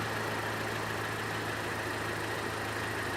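A 2019 Honda Civic with a CVT transmission idles steadily at close range, a continuous low engine hum with a faint tonal whine running unbroken as the car sits in gear.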